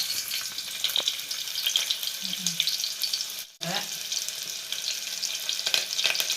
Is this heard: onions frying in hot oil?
yes